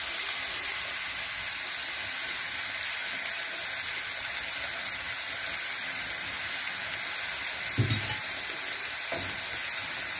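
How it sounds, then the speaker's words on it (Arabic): Chopped onion frying in a little olive oil, an even, loud sizzle that runs throughout with a couple of faint knocks near the end. "نخليوها تقلى واحد شويه"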